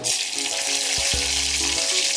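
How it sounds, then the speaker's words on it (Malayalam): Dried red chillies fry in hot coconut oil with mustard seeds already spluttering, giving a steady, close, loud sizzle throughout with a few dull knocks partway through, no voices. "ഇതിലേക്ക് ഇനി വറ്റൽമുളക് ഇട്ട് കൊടുക്കാം."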